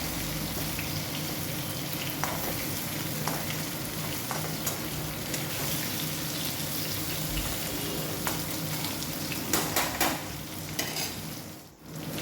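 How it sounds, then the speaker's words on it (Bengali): Fried katla fish pieces are tossed with onions in a pan, giving a steady close sizzle. Occasional scrapes and clinks from stirring break through, with a brief dip near the end. "এবার ভালো করে মাছ ভাজাগুলোকে একটু ভেজে নেব, পেঁয়াজের সাথে এপিট ওপিট করে ভেজে নেব"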